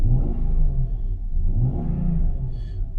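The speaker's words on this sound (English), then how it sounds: "Try not to rev it too much because it's still, I mean, it's not like cold outside, but the engine is still cold" The still-cold engine of a 1999 vehicle on an 11-degree morning, revved twice in smooth rising and falling swells over a steady low idle rumble, with no talk.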